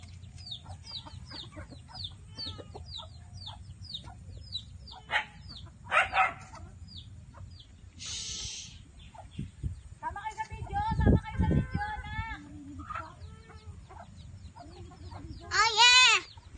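Chickens on a farm cluck and squawk in scattered bursts, a rooster and a dog joining in, while people chatter nearby.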